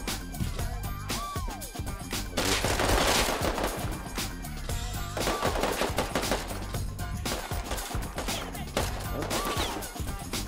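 Video game gunfire in a multiplayer survival shooter on an oil rig: loud, close, rapid bursts of automatic shots with sharp cracks and short pauses, repeating throughout.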